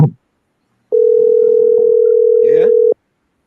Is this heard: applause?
no